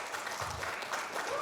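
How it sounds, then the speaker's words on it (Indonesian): Brief, faint patter of audience clapping for the Metro group at a village youth talk, an even wash of applause under a low hum. "tepuk tangan untuk kelompok Metro"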